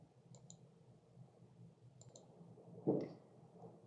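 Faint computer mouse clicks in a quiet room, a couple of small sharp clicks early and later, then a single slightly louder click near the end.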